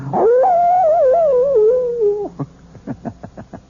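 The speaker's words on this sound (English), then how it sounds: "the wolf is not only a fascinating creature, he also does something wonderful for all lovers of mystery stories. He makes this chilling sound." A wolf gives one long, wavering howl that rises and falls, then breaks into a series of short, yelping calls, all loud and alone.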